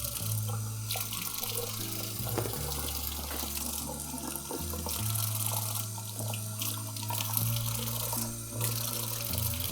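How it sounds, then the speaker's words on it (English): Kitchen tap water running over bread while making lasagna, a continuous splashing stream that shifts in tone as the bread moves under it, steady and close. "just run a little water right over it"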